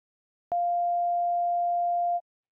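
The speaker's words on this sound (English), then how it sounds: "If the signal contains one and only one frequency, this forms a sine wave." A single steady pure sine tone sounds alone for under two seconds, starting with a soft click and holding a constant pitch and level until it cuts off cleanly.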